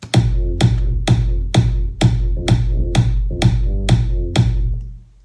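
Ten evenly spaced thumping kick drum hits layered with sub bass, each with a deep booming tail, loud and close in a steady beat.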